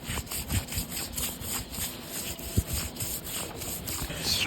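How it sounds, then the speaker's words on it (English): Scrubbing on a roof behind solar panels, a steady dry rubbing and brushing texture with a few sharper knocks, fairly close and moderately loud, with no talking. "Scrub, scrub, scrub."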